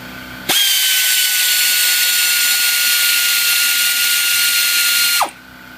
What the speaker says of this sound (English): You have a good air ratchet.